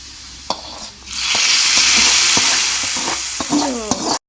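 Fish curry with ground spice paste cooking in a pot on a gas stove, with loud, close sizzling that swells and holds, broken by sharp scraping stirs and clinks.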